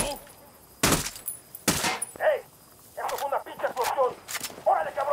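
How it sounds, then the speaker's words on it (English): Two sharp gunshot cracks ring out in quick succession in the video game Ghost Recon: Wildlands, followed by quieter voices speaking in a hushed scene. "Tango heard the gunshot."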